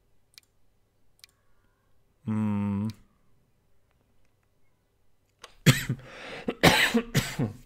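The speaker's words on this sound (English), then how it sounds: "Damn, that cough is still not gone." A single harsh cough bursts out amid near silence, followed a few seconds later by a loud run of voiced talk and noisy breaths, with a couple of faint clicks scattered before it.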